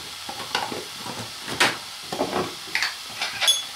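Masala with black pepper being stirred and fried in a pan, with intermittent scraping strokes over a soft sizzle at close range, no voices present.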